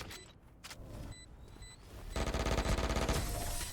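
Phantom rifle fire in Valorant, short bursts of shots at first and then a dense, sustained rattle of automatic gunfire, loud and close, with no talk.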